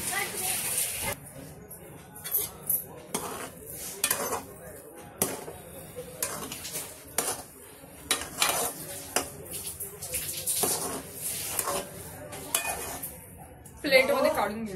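Spicy rava upma cake is served out onto a plate, with repeated clinks and scrapes of metal utensils against the pan and plate while someone talks throughout.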